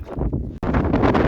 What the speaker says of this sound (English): Just need the wind to drop a little